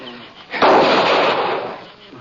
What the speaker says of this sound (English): the shots weren't coming from inside